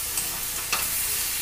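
Vegetables with turmeric and salt frying in a pan, a soft steady sizzle with a brief stir of a spoon, close and quiet, no talking.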